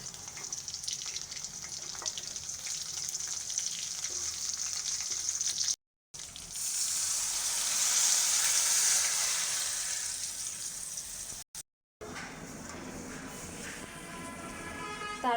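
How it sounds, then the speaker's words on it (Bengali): Garlic and flat bean seeds sizzle steadily in a hot pan for a dried-fish curry, a continuous close crackling hiss that swells in the middle, broken by two brief silent gaps, with no talking. "রসুনটাকেও একটু ভেজে লাল করে নিব।"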